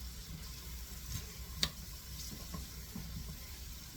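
Mushrooms sauté in a hot pan while chicken breast with spinach and mushroom stuffing is being made, giving a steady soft sizzle with one sharp tick partway through.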